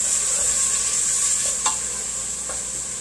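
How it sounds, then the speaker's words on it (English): White bean chicken chilli stirred in a pot over a steady sizzle, with a few soft scraping knocks from the spoon near the middle and end. "let's give all that a little stir."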